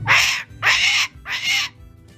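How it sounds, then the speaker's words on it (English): A pet cockatoo gives three loud, harsh screeching calls in quick succession, each lasting about half a second with short gaps between, close to the listener and heard alone. "Have you been a good Christian bird?"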